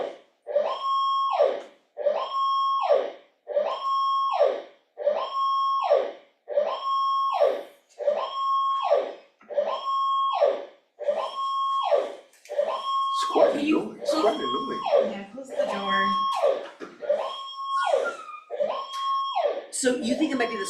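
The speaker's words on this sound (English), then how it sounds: "it's definitely the fire alarm" A fire alarm in a meeting room sounds in a regular repeating pattern of loud electronic tones, about one every 1.3 seconds, continuing alone before people start talking over it in the second half.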